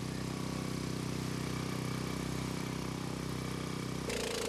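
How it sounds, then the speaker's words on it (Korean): Motor pump draining floodwater in an alley without electricity, a steady droning engine hum running continuously and loudly with a slight change in tone near the end. "전기도 들어오지 않는 골목길에 물을 빼는 모터 소리만이 쉼없이 울리고 있다."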